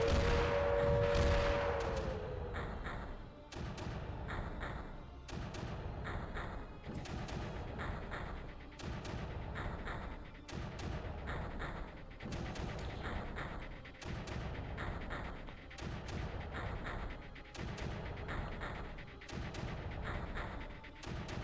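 Artillery fire in the strategy game Creeper World, a steady series of evenly spaced muffled thumps, roughly one every second or so, repeating with little variation over a low background.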